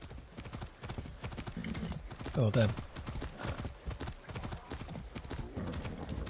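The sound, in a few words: horse hooves clip-clopping in video game Far Cry 6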